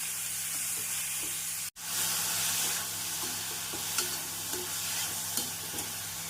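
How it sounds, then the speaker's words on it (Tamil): Grated carrot sautés in a pan over a medium flame with a steady, bright sizzle, broken by soft scraping stirs and one sharp momentary dropout. "கேரட் சேர்த்து நாம் மிதமான தீயில் ஒரு இரண்டு நிமிடம் வதக்க வேண்டும்"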